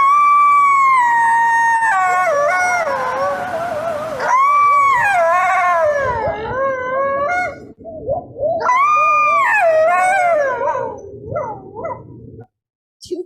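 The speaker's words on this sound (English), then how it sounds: "Two coyotes can sound like many more due to the variety of sounds they make." A pair of coyotes, male and female, howl and yip in a long, varied chorus of wavering, sliding calls, loud and close, with a brief pause midway before another rising burst.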